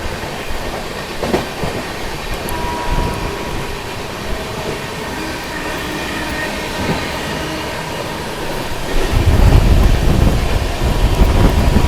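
The Kacheguda to Madurai weekly superfast express running on the rails, a continuous rumbling roar with rhythmic wheel clatter heard from inside, growing louder and heavier toward the end.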